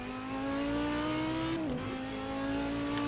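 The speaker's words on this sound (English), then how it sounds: "So we're driving the Audi R8 at the exact moment. Beautiful sounding car." An Audi R8 in the racing game Assetto Corsa holds a strong, steady engine note at speed, then its pitch dips briefly at a gear change before the engine settles back into a smooth, even tone.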